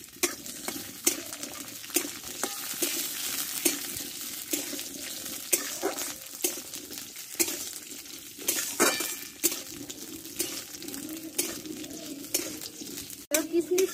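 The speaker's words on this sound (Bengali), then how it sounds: "কিশমিশ নারকেলটা একসঙ্গে ভেজে নেব।" Coconut and raisins fry together in a pan, a moderate sizzle broken by repeated spatula clinks and scrapes against the metal, with some faint background voice.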